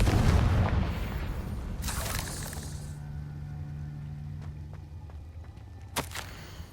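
A Confringo spell explosion in Hogwarts Legacy: a loud, close boom that decays over a few seconds, followed by a second sharp burst, then a sharp crack near the end.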